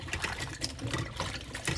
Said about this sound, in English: put them in a large bowl and wash them twice